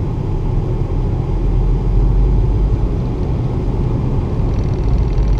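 A 1987 Toyota SR5 4x4 pickup crawls at idle in 4 low with no clutch, its engine a steady, deep rumble that stays even and close throughout.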